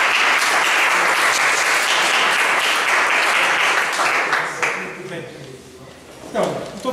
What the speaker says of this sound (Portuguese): Uma salva de palmas, por favor, professor